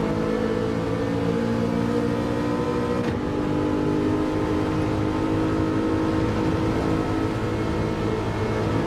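Race car engines in Gran Turismo 7 during a Nations Cup round at Road Atlanta: a steady, loud, droning engine tone holds throughout, with one brief dip in the middle and no talking.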